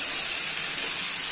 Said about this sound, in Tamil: நண்டு போட்டு நல்லா 1 நிமிஷம் இதை வதக்கி எடுத்துட்டு